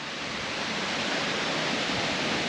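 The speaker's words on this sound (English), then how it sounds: "it is raining now" Steady, dense hiss of rain falling at a beach by the coast, constant and enveloping with no pauses, no voices over it.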